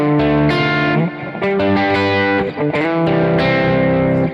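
Electric guitar chord played with unused strings muted and effects such as delay and reverb, in a worship song lesson: bright sustained chords shifting a few times over several seconds, ringing with slight distortion, no talk.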